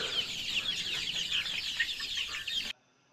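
Kairali chickens on a Kerala poultry farm cluck and chatter continuously at close range, many birds overlapping in a busy stream of sound that stops abruptly near the end.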